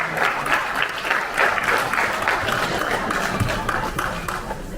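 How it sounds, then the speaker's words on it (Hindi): Vigorous audience applause at a Delhi ceremony for Atal ji's birth anniversary, a steady wash of many hands clapping throughout with crowd murmur beneath. "बहुत जोरदार तालियां"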